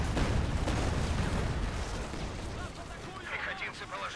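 A heavy explosion in the World War II strategy game Company of Heroes, a loud rumbling blast that slowly decays into crackling debris and distant battle noise.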